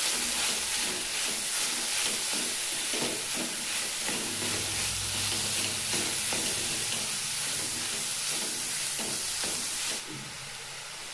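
Mixed vegetables with capsicum and potato sizzle and fry in a pan while a spoon stirs them, a steady close hiss with scraping strokes throughout, without any talk.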